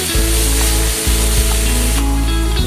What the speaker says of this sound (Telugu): ఇవన్నీ యాడ్ చేసేసుకుని లైట్గా ఫ్రై చేసుకున్నాం.